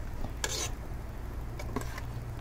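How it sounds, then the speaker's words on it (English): Sauce with onions cooking in a pan, a faint low simmer and sizzle with a couple of light utensil scrapes and clinks against the pan. "This is how the sauce looks, so I guess I'm gonna let it cook until the onions are transparent."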